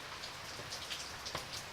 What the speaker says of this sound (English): Observe as the tiny droplets hit the otherwise gentle surface of the stream.